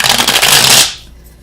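A small tarot clarifying deck is shuffled close by in one brisk riffle of fluttering card noise lasting under a second, then it cuts off sharply into quiet.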